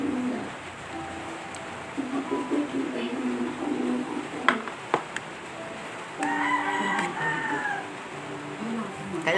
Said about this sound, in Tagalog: May manok nga eh.